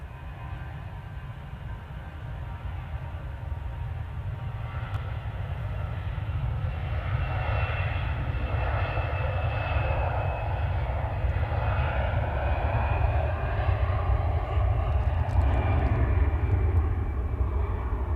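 Jet2's 37-year-old Boeing 757 arrives, its engines a steady deep roar and whine that swells and holds loud for the whole stretch, with no voices.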